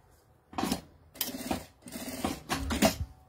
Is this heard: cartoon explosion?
no